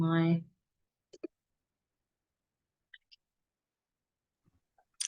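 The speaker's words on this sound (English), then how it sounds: "Just try clicking the mouse on the screen and then advancing, see if that helps." A computer mouse clicks during an online presentation call, a few sharp isolated clicks spaced out across near silence after a brief tone at the start.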